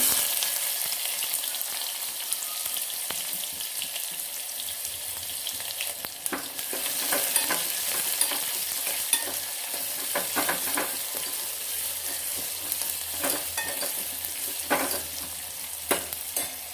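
Onion sizzles and crackles in hot oil with mustard seeds and cumin in a home kitchen pan, a steady close hiss with occasional pops and spoon-stirring scrapes, no talking.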